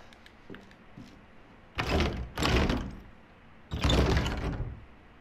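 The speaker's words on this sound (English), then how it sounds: "Who closed the door on me?" Heavy door slams shut in the horror video game Resident Evil 7, three loud broadband thuds in close succession, the last one longest, after a quiet dark room with faint creaks.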